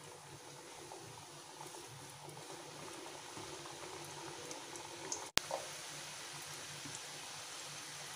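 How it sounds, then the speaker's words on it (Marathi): Roll samosas deep frying in oil over a low flame, a faint, even bubbling and gentle sizzle that carries steadily throughout, broken once by a brief click. "आणि आता नंतरचे सुद्धा आपण डीप फ्राय करून घेऊयात"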